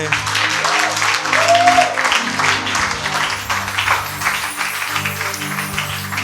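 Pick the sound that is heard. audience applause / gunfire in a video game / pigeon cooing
audience applause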